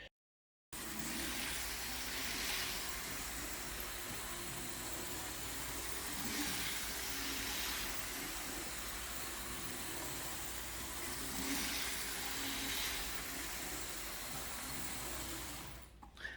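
A 1976 Tyco Spirit of 76 HO scale model locomotive motor running, a faint steady whirring hum that holds for about fifteen seconds after a brief silent start, then cuts off, with no talk.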